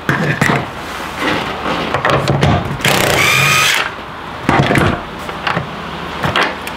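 A 17 mm socket on a power tool backs out the seat belt bolts in a 2017-era Audi B9 S4 interior: a loud, roughly one-second whirring burst in the middle, surrounded by clunks and handling knocks, with no talking.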